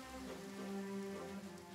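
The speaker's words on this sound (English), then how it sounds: "The rain sounds weird." Steady rain in the video game Monster Hunter World, a continuous hiss of falling drops with a faint low hum underneath, heard on its own without voices.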